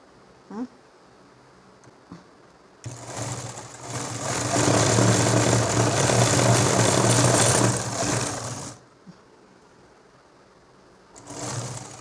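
Sewing machine stitching the hem of a nightie at home, a steady mechanical whirring run of about six seconds between quiet pauses, with a few soft clicks before it and a short burst starting again at the end.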